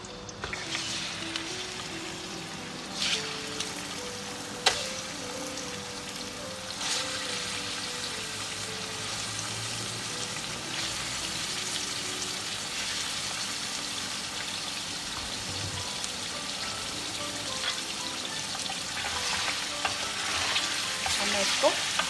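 Mutton sizzles steadily in a hot pan, a continuous close frying hiss with occasional clinks and scraping as the meat is stirred.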